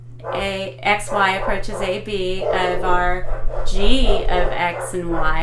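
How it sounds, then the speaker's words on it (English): Several dogs bark and yip in the background of a math lecture, their sharp outbursts partly buried beneath continuous nearby talking. "sorry about the dogs"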